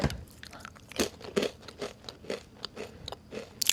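Crunchy Annie's cheddar squares being bitten and chewed close to the mic, a run of sharp, irregular crunches spaced through the stretch with no talking.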